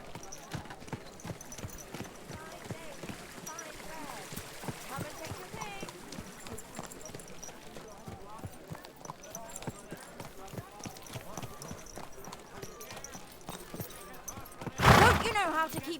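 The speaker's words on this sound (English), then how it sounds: "Don't you know how to keep your horse under control?" Horse hooves clip-clop steadily along a road in Kingdom Come: Deliverance II, a rhythmic patter of footfalls under ongoing talk, with a sharp louder burst near the end.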